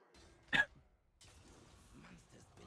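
A single short cough from a person playing Hearthstone, one sharp burst near the start, followed by quiet breathing and soft low talk.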